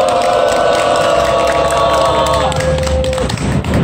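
Crowd at an outdoor candlelight rally of dismissed teachers' union members, held in front of a labor office, cheering and clapping together in a dense, loud, sustained roar, with a voice sounding over it.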